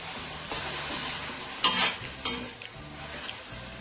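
Masala fries in a pan as soy sauce and vinegar are added for chicken cheese pasta. A steady sizzle runs throughout, broken by a few sharp louder bursts and spoon scrapes as it is stirred.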